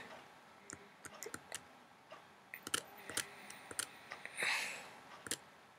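Sharp, quiet mouse clicks tick irregularly at a desk while working in the Unity editor, some in quick pairs, with a brief soft rustle near the end.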